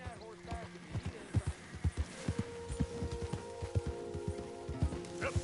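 Horse hooves clip-clopping in the western video game Red Dead Redemption 2, irregular hoofbeats at a walking pace, fairly close, over a soft outdoor ambience with faint background sounds.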